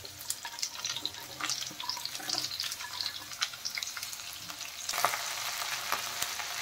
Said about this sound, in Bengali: এখন আমি এর মধ্যে সজনে ডাঁটা আর আলু দিয়ে দিলাম।